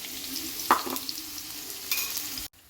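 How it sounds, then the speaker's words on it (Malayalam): Onions frying in oil in a pan for prawn biryani, a steady close sizzle with a few brief stirring clatters, ending abruptly in silence. "സവാളയെ നന്നായി ബ്രൗൺ കളറാക്കി എടുത്ത് എണ്ണ കുറച്ച് ഒഴിച്ചത് കൊണ്ടാണ് ഇത് മൊരിഞ്ഞ് വരാൻ വേണ്ടിയിട്ട് താമസിച്ചത്."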